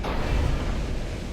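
A deep, rumbling boom of 15-inch naval guns firing in Ultimate Admiral: Dreadnoughts during the Denmark Strait battle between Bismarck and Hood, one heavy sustained blast.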